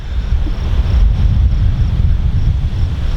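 Heavy wind buffeting the microphone on a hilltop at Detroit Mountain overlooking a big lake, a constant low roaring rumble that fills the whole clip with no speech audible.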